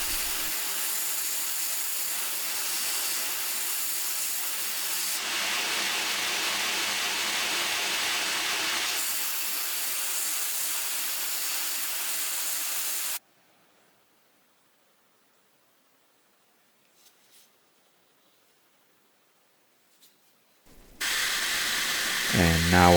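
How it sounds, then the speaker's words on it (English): A bowie knife handle being ground to shape, with a loud steady grinding hiss for about thirteen seconds, then near silence, and the grinder starting again near the end. "then I will grind it to those lines"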